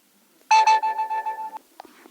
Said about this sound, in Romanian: telefonul meu primind notificări